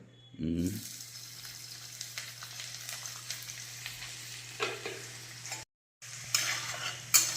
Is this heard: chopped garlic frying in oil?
yes